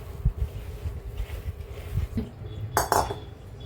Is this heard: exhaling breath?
no